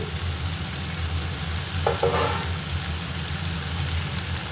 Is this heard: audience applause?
no